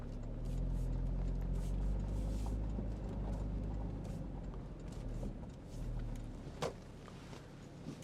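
A 2013 Porsche Boxster 3.4 981 S PDK rolls slowly around at close range, its steady low engine rumble holding for several seconds before easing off, with a brief sharp click near the end.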